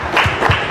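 Crowd applause from a high school team gathering, a steady patter of many hands clapping for a brief moment with no talk over it.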